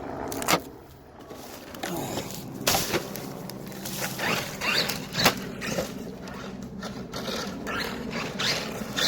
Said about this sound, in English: Let's get rid of this tape.